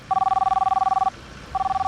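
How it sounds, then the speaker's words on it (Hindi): A telephone bell rings in two bursts, a long steady trill followed by a pause and a second ring, loud and close in an indoor domestic scene. "कौन फोन कर रहा है?"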